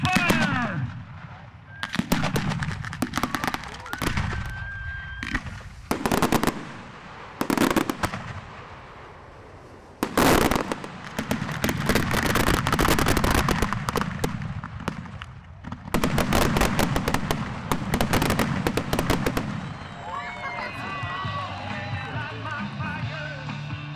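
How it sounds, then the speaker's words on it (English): Spanish mascleta fireworks set off at a Florida display: a loud, relentless barrage of sharp bangs and crackling bursts, dense rapid-fire volleys broken by brief gaps, building into continuous rumbling salvos before fading into scattered crackles and sizzles. "Saturday's grand display will include items from around the world, like this Spanish mascleta"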